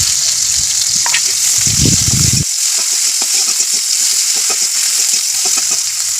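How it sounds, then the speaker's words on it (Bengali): Chopped onion sizzles loudly in hot oil in a wok for a Bengali ridge gourd and poppy seed curry, a steady close frying hiss with scraping stirs throughout. "তারপরে পেঁয়াজ কাটাটা দিয়ে দেবো, আবার নেড়ে নেবো।"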